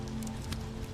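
Rain falls steadily onto a surface, a dense continuous patter with scattered individual drops, close and even throughout with no voices.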